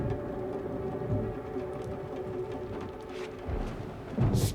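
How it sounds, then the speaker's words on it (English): Timefall storm in the video game Death Stranding 2, a steady wash of rain with low rumbling thunder swelling near the end, continuous and fairly loud throughout. "Storm!"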